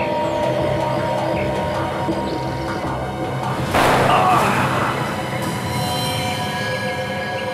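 In a CID crime drama scene, a single sharp, loud gunshot bursts out midway through, standing out against a steady background hum and faint talk.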